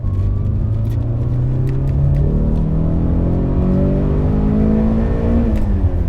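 A Mercedes 190 Evo 2 engine revs and accelerates, its pitch climbing steadily in a loud, close, continuous roar with no speech.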